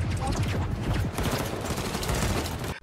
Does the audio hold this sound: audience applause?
no